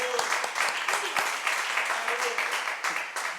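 Audience clapping at a live talk event, a brief steady patter of applause at moderate volume with a voice briefly heard over it.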